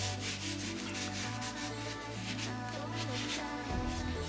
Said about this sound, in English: Few quick sprays, and then just give it a good wipe down.